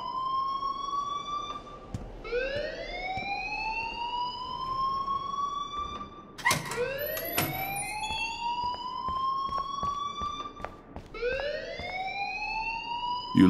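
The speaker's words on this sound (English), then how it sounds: "please turn off that alarm" Fire alarm in the video game Life Is Strange, a repeating rising electronic whoop cycling every few seconds, steady and fairly loud, with sharp clicks and clanks mixed in.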